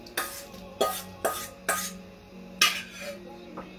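Great Northern beans are stirred into pasta sauce in a pot for pasta fagioli, with five or six sharp spoon clanks against the pot at an uneven rhythm, close and fairly loud.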